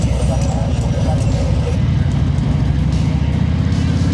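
A new Harley-Davidson motorcycle on its first ride, its engine giving a steady low rumble with dense low-end pulsing that holds loud and even throughout, with wind noise over it.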